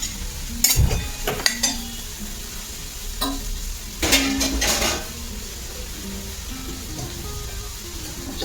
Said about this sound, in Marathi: मटकी थोडी भाजून घेऊया